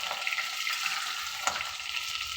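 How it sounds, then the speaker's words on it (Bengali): Potatoes fry in a pan of hot oil for a rohu fish curry, giving a steady, close sizzle with a few brief stirring clicks and no talking. "আলুটা এখন ভাজা হয়ে গেল"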